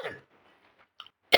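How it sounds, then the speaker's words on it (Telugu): A single sharp, loud cough bursts out near the end, following a brief murmur of a voice and a small click in an otherwise quiet room. "దగ్గు న్యాచురల్."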